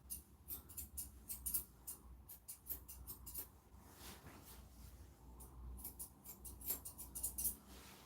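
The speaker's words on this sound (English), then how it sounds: "I get the basic shape scissored in with the curve shears" Soft, rapid snipping of curved shears cutting through a Bichon Frise's fur, quick irregular clusters of small clicks, close and fairly quiet.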